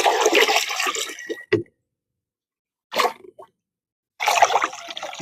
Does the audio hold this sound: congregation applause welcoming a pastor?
no